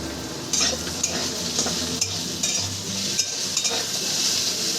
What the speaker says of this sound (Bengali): বেগুনটা আমি সুন্দর করে ভেজে নেব লাল লাল করে ভেজে নেব